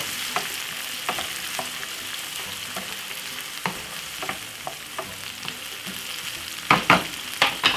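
Ingredients for Jamaican rice and peas frying in a pot, a steady sizzle punctuated by the scrape and clink of a spoon stirring. The strokes come sparsely at first, then grow quicker and louder near the end, close by, with no talking.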